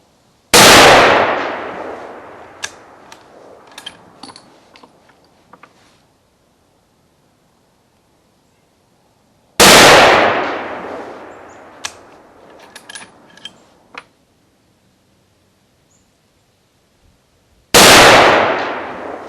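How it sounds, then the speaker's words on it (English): Three loud rifle shots fired at an outdoor range while sighting in a scope, spaced several seconds apart, each a sharp close blast with a brief ringing decay and faint clinks between. "Now we're going to fire another group."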